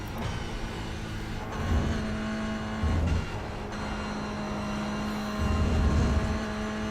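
Toyota GR86 Cup race car engine in a racing game at Watkins Glen, a steady droning engine note held near the rev limiter, with brief louder surges and bouncing tones, continuous with no talking.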